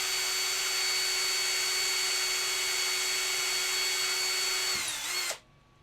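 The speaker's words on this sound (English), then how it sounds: "I can already feel like how much pressure I have to put against it to drill into it." A power drill whines steadily at high speed for several seconds while drilling into a solid resin model kit, then slows and cuts off abruptly, leaving near silence.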